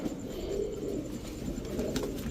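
A pair of Royal Teddy pigeons, slim flying birds at a loft, coo continuously in low rolling murmurs close by, several voices layered over steady background noise.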